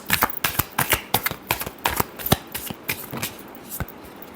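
Tarot cards are shuffled by hand close up in a quick run of crisp riffling slaps and flutters, irregular but steady, with no talking.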